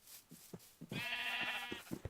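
Sheep bleating on a small farm in the modded Minecraft pack Age of Engineering, a single long wavering bleat following a few soft clicks and taps, close and clear, with no talking.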